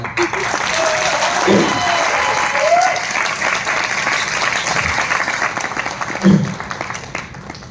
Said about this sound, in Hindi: ताली बजाते हो तो बजा लो यार।